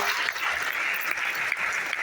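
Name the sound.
audience applause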